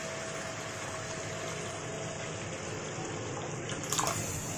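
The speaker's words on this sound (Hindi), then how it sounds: "हम ग्रेवी में पानी ऐड करेंगे। यहाँ मैं गर्म पानी का इस्तेमाल कर रही हूँ" Hot water is poured into a pan of potato and soybean curry gravy as a steady, continuous pour, with a brief louder splash near the end and no talking.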